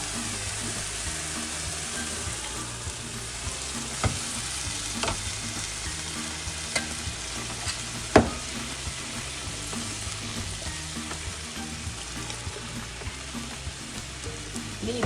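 Drumstick leaf curry with coconut paste simmering in a pan, a steady close sizzling bubble with a few sharp clicks of a utensil, heard alone with no talking.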